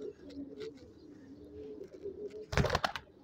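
Pigeons brought from Punjab coo softly in a low, rolling murmur, followed near the end by a short burst of louder wing flapping or scuffling.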